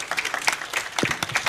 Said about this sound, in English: Another hand of applause, Safadhali.